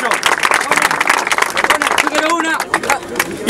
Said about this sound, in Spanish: Un aplauso para Brooklyn, guacho.